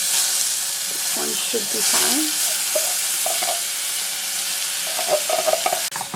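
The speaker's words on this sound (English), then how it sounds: "all you need to do is stir the beans and the onions" Onions and tinned beans frying in a pan give a loud, steady close hiss while being stirred, with someone talking intermittently over it and a few clinks of the utensil near the end.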